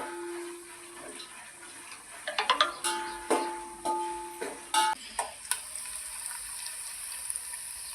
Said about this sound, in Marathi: लसूण भाजत आहे.